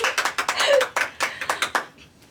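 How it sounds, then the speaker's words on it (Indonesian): Hands clap close by in a sharp, uneven burst at a school debate-club podcast session, with a dozen or so distinct slaps that thin out and fade near the end. "Tepuk tangan dulu dong."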